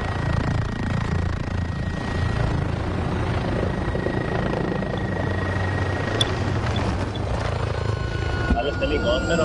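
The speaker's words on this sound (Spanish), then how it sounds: "este helicóptero, loco." A helicopter roars in the shooter game Modern Warfare, its loud continuous rotor chop and engine whine filling the whole stretch, with excited players talking over it.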